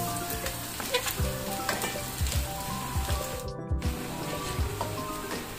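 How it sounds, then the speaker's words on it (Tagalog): Garlic sautéing in a hot pan, a steady close sizzle and crackle of frying with occasional scrapes and stirring knocks, no talking. "Gigisa muna ako ng bawang"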